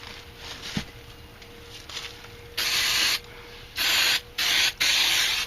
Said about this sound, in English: brake cleaner to remove any contamination